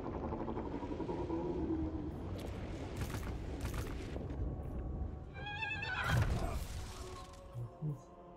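A horse whinnies in the Total War fantasy strategy game, a mid-length neigh rising out of dense battle noise and music, with other in-game clamor continuing around it.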